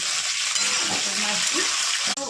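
Chopped karela (bitter gourd) sizzles and fries in a pan, a steady, close hiss. Faint voices and a brief utensil clink can be heard.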